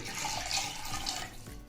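Milk and water pour into a pressure cooker in a continuous splashing stream for a moment, close by, then start to taper off at the end.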